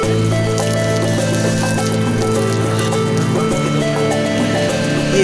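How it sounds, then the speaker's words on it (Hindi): Heavy rain falls as a dense, continuous wash of noise that stays steady throughout, with steady tonal hums running underneath. "बारिश हो रही है, बड़ी तेज, बहुत ज़्यादा तेज।"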